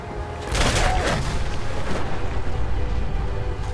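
A loud explosion in Fallout 4 bursts in at about half a second, then a sustained rumbling roar and crackle rolls on through the rest, with no voices.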